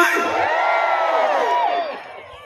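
A large crowd at a Thai political campaign rally in Lopburi lets out a loud, sustained collective jeering hoot of many voices for about two seconds before it tapers off.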